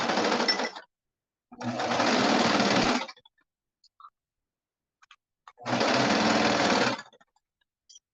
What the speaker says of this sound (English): grab this sleeve and sew it down